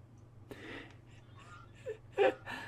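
Duck-like calls of small raptor-style dinosaurs in the Minecraft Reborn mod, a handful of short nasal quacking squawks over a low steady hum, the loudest near the end.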